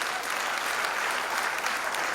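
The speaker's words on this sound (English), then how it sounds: "Are we clapping for them, please?" A steady wash of audience applause fills a conference hall at an event in Freetown, Sierra Leone, dense even clapping from many hands sustained throughout, with no voices over it.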